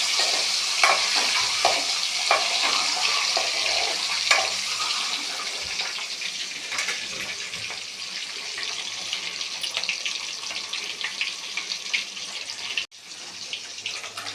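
Eggs fried in a pan, a home cook's dish, sizzle steadily while a spatula scrapes and stirs them in irregular strokes; constant close frying hiss, no talking.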